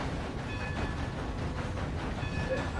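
Steady rumbling of a train rolling along rails in a video game, continuous and fairly loud throughout, with faint tonal whine layered over the low clatter and no talking.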